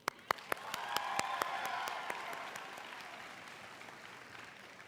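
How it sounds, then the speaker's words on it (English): A graduating class at a high school graduation ceremony breaks into broad crowd applause, opening with a few sharp, close individual claps before the clapping swells and then gradually thins out. "I think we should give a round of applause to ourselves"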